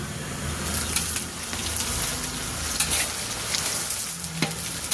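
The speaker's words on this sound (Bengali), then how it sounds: "দেখেন পেঁয়াজ লাল করছি" Onions fry in oil with bay leaf and whole spices, a steady close sizzle and crackle that runs throughout, with occasional stirring clinks.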